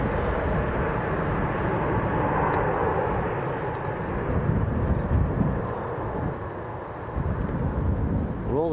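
An airliner at Manchester Airport rolls long down the runway on takeoff into a strong headwind, a loud, steady engine rumble with wind buffeting the microphone throughout.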